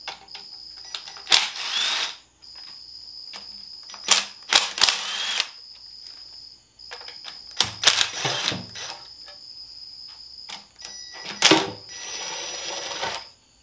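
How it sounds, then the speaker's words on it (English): A tool clicks and rattles in short bursts while screws holding the pan of a 545RFE transmission are removed, close up with quiet gaps between bursts. "we're going to take the couple of screws out that's holding the pan on"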